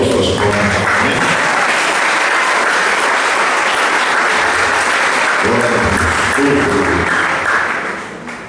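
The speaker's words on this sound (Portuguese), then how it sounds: "Pode glorificar a Deus com as suas palmas." A church congregation applauds in praise, loud and dense clapping that fills the room for about eight seconds, with sustained keyboard chords underneath, before it tapers off at the end.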